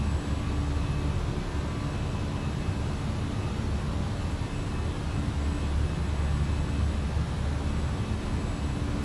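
An airliner picks up speed in Microsoft Flight Simulator, its broad, steady engine and wind roar filling the whole stretch at constant loudness with no talking.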